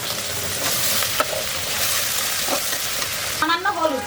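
Ripe tomatoes hit spices frying in oil for a Bengali koi fish curry with cauliflower, giving a loud, continuous sizzle with a few scraping stirs and a brief squeaky clatter near the end.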